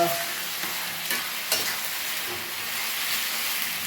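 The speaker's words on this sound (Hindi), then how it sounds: "अदरक लहसुन प्याज सब चिकन के साथ भून जाएगा" Chicken frying with ginger paste in a hot kadhai, a dense continuous sizzle with a few sharp crackles and stirring scrapes, close and fairly loud.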